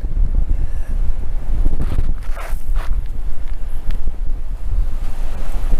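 Strong wind gusts outdoors beside a small 13 ft Scamp travel trailer, roaring and buffeting against the microphone in loud uneven surges, with faint rustling underneath and no speech.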